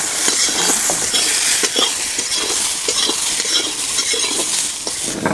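Pointed gourd (parwal) cooking for a small rohu fish curry sizzles loudly and continuously in a pan outdoors in a village setting, with a bright hiss and occasional scrapes of stirring.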